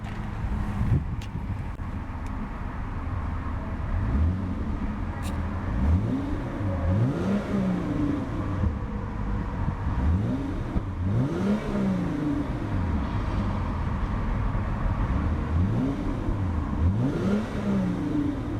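The 3.8-liter V6 of a 2014 Hyundai Genesis Coupe 3.8 Ultimate revs repeatedly, each rise and fall in pitch coming in a steady cycle over a low idle with some wind noise and no talk.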